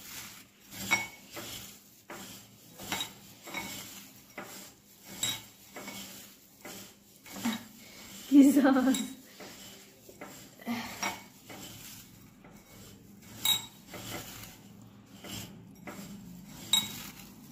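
Fried rice being mixed with salt and mustard oil in a dish, with repeated light clinks and scrapes from utensils against the dish in a steady, uneven rhythm, close by and without talk.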